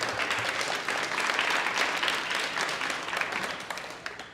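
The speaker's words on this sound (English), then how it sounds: "Let's give it just one more round of applause" Sustained round of applause from a seated audience at a community entrepreneurs' meeting, dense and steady clapping that swells midway then gradually thins toward the end, no talking over it.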